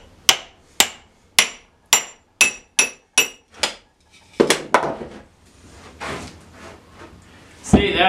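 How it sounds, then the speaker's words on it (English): A wedge is hammered into wood held in a vise to split it: about nine sharp, evenly spaced hammer blows ring out close by, followed by cracking and rustling as the wood gives way. "I'm just going to put a wedge in here and try to split it the rest of the way."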